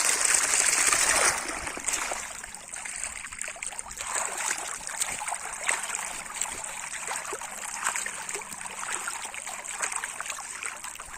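Water runs steadily through an irrigation canal beside a maize field, a continuous close trickling rush that is louder for the first second or so, then holds an even, babbling flow with no voices.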